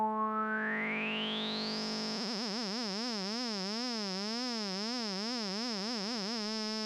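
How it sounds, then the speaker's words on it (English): An Oberheim OB-X8 synthesizer holds a steady tone as a sine-wave LFO sweeps oscillator 1's pitch, first a rising sweep and then a wobbling vibrato that quickens over several seconds, sounding clean and alone. "we're going to modulate the pitch of oscillator 1 with a sine wave"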